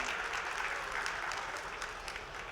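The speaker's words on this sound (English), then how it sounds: "could you please give a round of applause to my lovely panelists today?" An audience at a technology conference panel applauds the panelists, dense steady clapping filling the room throughout.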